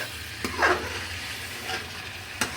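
Faint background sizzle of potatoes frying in a pan with a few scattered spoon clinks and one quick scraping stir, close by and fairly quiet.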